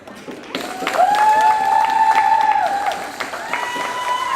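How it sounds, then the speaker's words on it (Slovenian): An audience at a school eco-quiz bursts into loud applause with cheering, sustained and lively for several seconds, with whistles or shouts rising above the clapping. "En aplavz."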